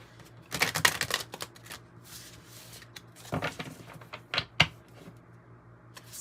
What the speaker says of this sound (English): Let's get some more cards out here on the table.